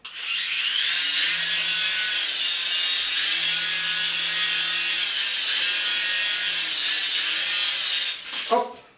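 A small toy helicopter bought from AliExpress runs with a steady high-pitched motor whine that holds for about eight seconds, then cuts off with a brief clatter near the end; no one speaks.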